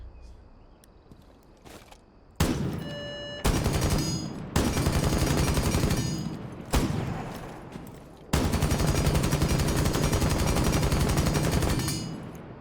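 Light machine gun in Rainbow Six Siege unleashing several long, loud automatic bursts, each a rapid, unbroken rattle of shots separated by brief pauses, the last burst running several seconds before cutting off; no voices.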